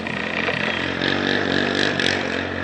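A dirt bike engine revving some distance away, a faint, buzzing drone that swells slightly over a couple of seconds.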